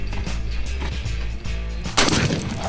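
A single loud gunshot cracks out close by from a gun fired by a shooter leaning to the side, cutting sharply through steady background noise and leaving a short, noisy decay.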